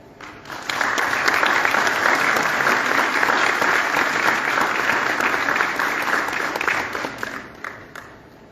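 Sustained applause from an audience after an inauguration speech at an academic ceremony, a dense wash of clapping that swells quickly, holds steady for several seconds and then begins to thin.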